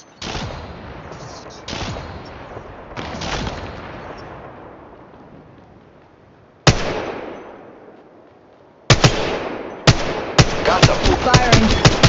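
Bursts of gunfire in the mobile shooter Apex Legends, played on an iPhone XR: several loud volleys with decaying echoes, a gap, then rapid clustered shots near the end, alongside in-game voice callouts.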